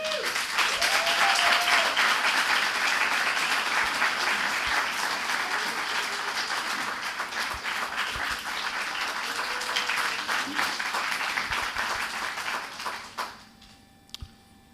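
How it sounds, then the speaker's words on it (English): Sustained audience applause at a fisheries award ceremony, dense and fairly loud clapping from a large crowd that holds steady for about thirteen seconds, then tapers off quickly into quiet room tone. "The lady here, who I will ask you to applaud because of her remarkable work, Miss Jamie Aquino."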